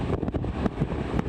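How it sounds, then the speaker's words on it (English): Hurricane Ida wind gusts in New Orleans roaring and buffeting against the microphone in a dense, continuous rush with uneven surges, loud and close, no talking. "These are hurricane force gusts"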